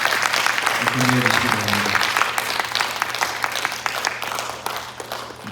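Church congregation applauding during a Sunday worship service, a steady burst of claps right up close with a voice speaking over the start before the clapping thins out.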